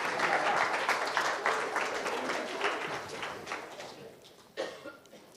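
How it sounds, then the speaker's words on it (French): Audience applause at a church service, a steady wash of clapping with a cough or two that thins out and fades near the end. "On peut applaudir nos brebis"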